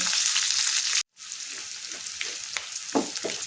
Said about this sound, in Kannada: ಈರುಳ್ಳಿ ತೊಗೊಂಡಿನಲ್ಲ ಇದು ಹಾಕೋತೀನಿ ಚೆಂದ ಎಲ್ಲ ಫ್ರೈ ಮಾಡ್ಕೋಬೇಕು